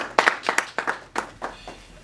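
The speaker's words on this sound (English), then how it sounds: "So a big round of applause to them as well." Audience clapping at a counter human trafficking forum in Rwanda, a short, sparse patter of a few hands in a room, fading over two seconds.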